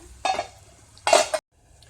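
A metal pot lid lifts off and chicken cooking for idli is stirred inside, giving two short clattering scrapes of metal close up, followed by silence.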